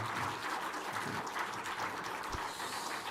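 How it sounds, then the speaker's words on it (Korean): A church congregation claps together during a Sunday afternoon service, a faint, even patter of applause with no talk over it. "박수 한 번 더 해주세요"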